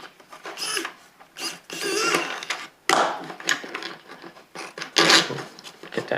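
A screwdriver drives a screw into a 3D printed plastic case for digital calipers, giving repeated close plastic creaks and ratcheting scrapes in uneven bursts, with no voices.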